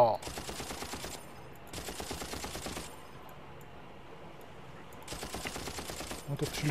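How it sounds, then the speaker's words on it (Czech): Bursts of gunfire from the Far Cry video game, three loud rapid volleys separated by a quieter gap, with game ambience between them. "No to střílí do toho člověka."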